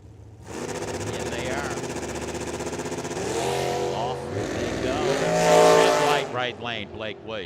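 Super Pro drag race cars launching and roaring down an eighth-mile strip at Firebird Motorsports Park, a loud sustained engine howl rising and swelling, then cutting off into fading sweeps as the cars pass and back off.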